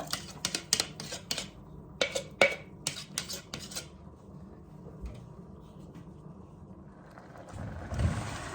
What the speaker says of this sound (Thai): เริ่มร้อนแล้วออนก็จะใส่เครื่องแกงที่เราปั่นใส่น้ำคลุกคลิกลงไปแล้วนะคะ